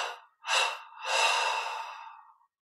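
A deep exhale during guided meditation breathing: a short breath, a brief pause, then a long, soft, airy release that slowly fades out.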